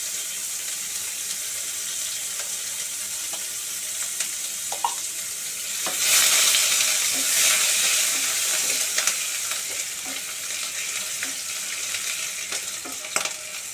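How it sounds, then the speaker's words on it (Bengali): Medium onion sliced into hot oil with panch phoron, sizzling and crackling steadily in a home pan with occasional stirring scrapes, the frying swelling louder midway and staying close with no talking. "একটু নাড়াচাড়া করে চড়বড় করতে পেঁয়াজ দিয়ে দিলাম একটা মাঝারি সাইজের পেঁয়াজ"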